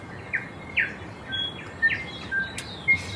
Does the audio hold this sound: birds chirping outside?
yes